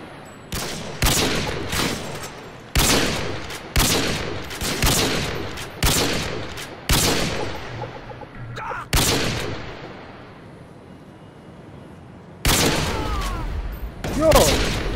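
Gunfire rings out in a shooter video game, loud single shots repeating about once a second with echoing decay, a short pause, then a final burst near the end.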